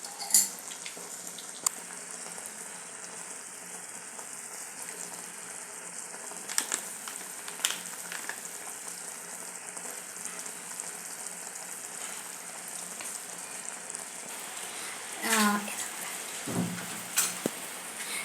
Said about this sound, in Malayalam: ഇനി നമ്മൾ കുറച്ച് നെയ്യ് ഒഴിച്ച് കൊടുക്കുകയാണേ